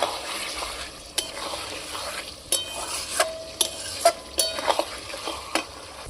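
Mutton fries in a pot over a wood-fired clay stove as a splash of water and green chillies go in, with a low sizzle beneath a series of sharp spoon scrapes and knocks against the pot, close by.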